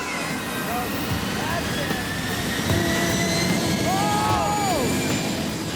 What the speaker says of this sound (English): the jet soon reaches full throttle